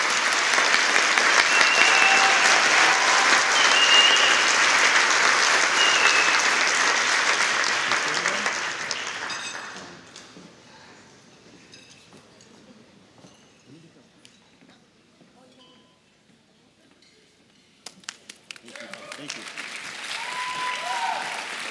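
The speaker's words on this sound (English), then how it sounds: "help me give a great round of applause to Engine 5 and Rescue 4" Loud audience applause for Engine 5 and Rescue 4 firefighters at a West Covina State of the City event, a full sustained round that fades out midway, then quiet before clapping rises again near the end.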